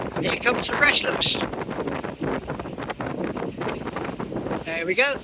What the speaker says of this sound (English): Quite a windy crossing today. With rain spitting at me in the face.